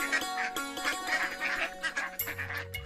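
A cartoon duck quacks beside a village pond, giving a quick run of nasal quacks over a steady tonal backing, close and fairly loud.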